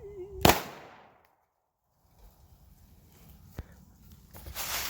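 Rifle fired at a can, a Palmetto Dagger with an Osight red dot: one sharp, fairly close crack near the start, then quiet with a faint tick and some light handling noise.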